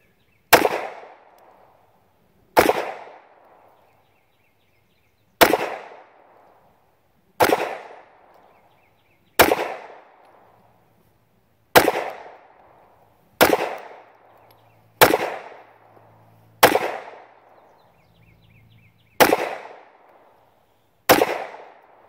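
Eleven sharp gunshots from a Smith & Wesson M&P9 Shield Plus 9mm pistol, fired one at a time at a steady, unhurried pace with roughly two-second gaps, each crack loud and close with a short decaying tail.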